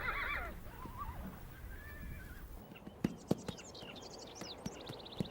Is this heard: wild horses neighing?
yes